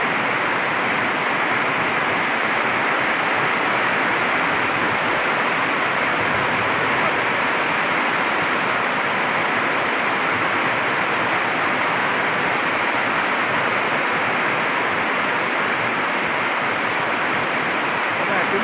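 Heavy rain pours at the Wat Hua Fai temple in Phrae, Thailand, during a storm, a loud, unbroken roaring wash of water that stays constant throughout.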